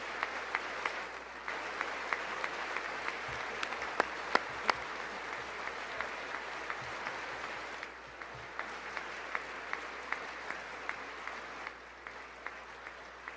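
Audience applause at a live-streamed event, a sustained, fairly quiet wash of many hands with sharper individual claps standing out now and then, continuing for several seconds.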